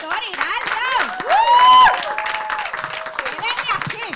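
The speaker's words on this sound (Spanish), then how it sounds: "con un fuerte aplauso recibimos al pastor Hiraldo" A church congregation claps loudly to welcome Pastor Joel Hiraldo during a pastors' celebration service, with excited voices calling out over the clapping and swelling to a peak midway.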